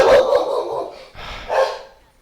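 Two pet dogs indoors give a few short close barks and yips, loud and spaced out, ending with a fading whine.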